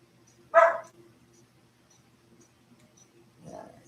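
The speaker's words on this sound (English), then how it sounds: "Dog's giving them hell out there." A dog barks outdoors on a hot southern Arizona day, one sharp close bark and then a softer second bark about three seconds later, with quiet background between them.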